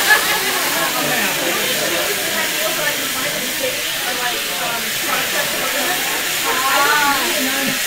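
Liquid nitrogen hissing steadily while ice cream is made at a convention demo, a broad continuous hiss with crowd chatter beneath it throughout.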